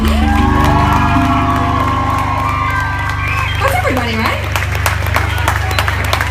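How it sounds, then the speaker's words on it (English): Crowd applause and cheering from a large audience, loud and sustained, with a voice speaking over it and music tones fading near the start. "An extra special round of applause for Jill."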